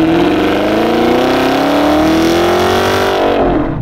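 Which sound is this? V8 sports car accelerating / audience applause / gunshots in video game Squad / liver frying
V8 sports car accelerating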